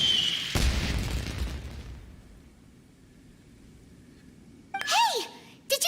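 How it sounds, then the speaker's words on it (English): A deep booming explosion in Genshin Impact bursts out near the start and rumbles away into quiet, followed later by brief high-pitched game-like effects. "Did you hear that explosion?"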